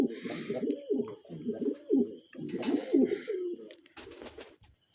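Maxi racer pigeons, including a moulting male, coo at close range in a nesting loft, with repeated low throaty rolls followed by a few sharp clicks and rustles.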